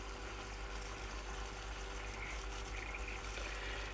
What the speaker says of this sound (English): So you can hear it bubbling now.